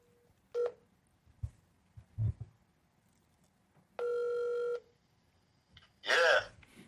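A short sequence of telephone dialing tones: isolated beeps, then one longer tone, with faint clicks and rustles between them in a quiet room.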